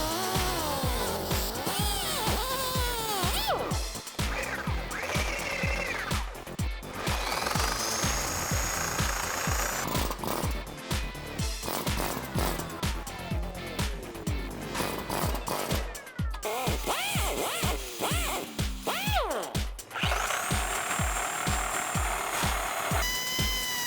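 A power tool cuts through welded brackets on a vehicle frame, making a loud, harsh grinding and rasping noise with rising and falling whines and brief pauses between passes, close up.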